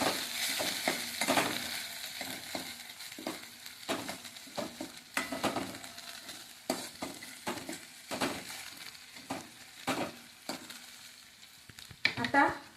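Sliced ridge gourd sautéing in a hot pan, a steady sizzle broken by frequent stirring scrapes and soft clatters of a spoon against the metal, close and continuous with no talking.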